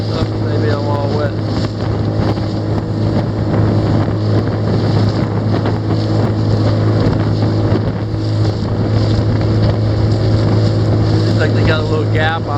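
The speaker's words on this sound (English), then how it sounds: "You got too many boats here" Steady engine drone of fishing motorboats on open lake water, continuous and fairly loud, with wind buffeting the microphone and occasional faint voices.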